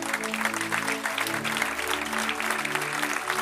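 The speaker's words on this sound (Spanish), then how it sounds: "Dele el mejor de sus aplausos a Él." Applause from a church congregation fills the space, dense and continuous over soft sustained music in the background.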